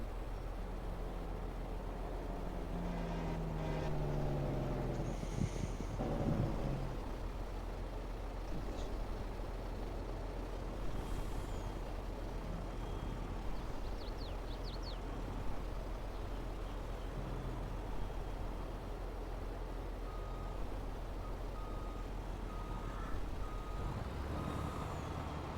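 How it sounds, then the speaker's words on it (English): A heavy truck's steady engine rumble rolls on through a farming game set on a Michigan prairie farm, with a few reversing beeps and air-brake hisses early, carried over a constant loud mechanical drone with no talking. "Hear the truck."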